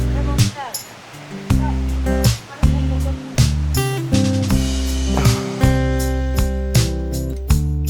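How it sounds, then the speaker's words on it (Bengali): Stream water flowing down from Parikunda waterfall in Sylhet, Bangladesh makes a steady rushing wash that sits beneath a person talking loudly over it. "এই যে পানিটা দেখতে পাচ্ছেন, এই পানিটা মূলত পরিকুণ্ড থেকে আসতেছে, পরিকুণ্ড ঝর্ণার।"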